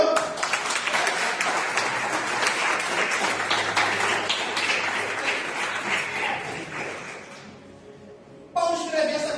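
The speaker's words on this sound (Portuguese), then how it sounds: "Você pode aplaudir o nome do Senhor?" A church congregation claps in praise during a worship service, a loud, sustained burst of many hands that dies away, then a voice resumes speaking.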